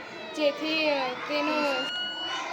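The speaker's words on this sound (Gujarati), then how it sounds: "તમને સંભળાશે છે કે એમ્બ્યુલન્સની સાયરન સંભળાશે." An ambulance siren, played through a speaker mounted on a vehicle, wails with a wavering, rising and falling tone, moderately quiet and continuous throughout.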